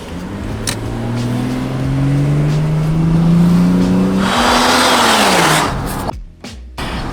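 A Ford Falcon with about 250,000 km on it accelerates hard, its engine rising loud and close through the revs before a gear change and a brief drop-off at the end.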